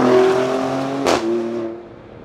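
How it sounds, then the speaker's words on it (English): Maserati Grecale Trofeo engine revs hard, then a sharp gearshift cuts the note with a brief burst before it pulls again and fades. The sound is close and loud, with no talking. "Although the shifts are loud, The downshifts can use a little bit of bangs and crackles"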